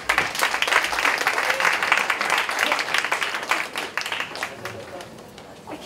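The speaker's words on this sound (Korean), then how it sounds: "큰 박수로 모시겠습니다." Sustained applause from an audience welcoming a student theatre troupe at the opening ceremony of a performing arts school festival in Seoul, dense steady clapping with cheering voices throughout.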